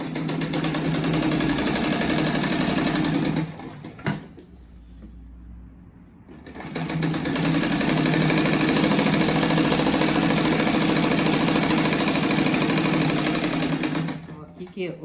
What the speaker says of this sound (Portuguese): dou um retrocesso pra ficar bem forte